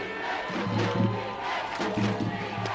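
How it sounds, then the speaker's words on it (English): A football crowd at a Kennedy versus Highland Park high school game comes to life, a steady roar of voices with shouts rising and falling, fairly distant and continuous through the short stretch. "as the crowd comes to life"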